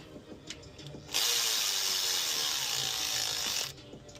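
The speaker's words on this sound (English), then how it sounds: "if you have a little ratchet, electric, 1/4, this will be your pal" A small 1/4-inch electric ratchet buzzes in one continuous burst of about two and a half seconds during timing belt and water pump work on a 2003 Honda Odyssey, framed by quiet handling clicks before and after.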